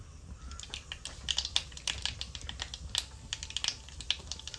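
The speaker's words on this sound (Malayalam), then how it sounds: "എണ്ണ ചൂടായി നമുക്ക് കടുക് ചേർത്ത് കൊടുക്കാം" Mustard seeds and fenugreek seeds spluttering in hot oil in a pan, a dense run of sharp crackling pops that builds and stays steady throughout, close by and alone.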